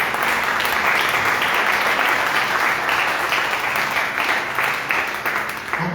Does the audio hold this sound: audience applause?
yes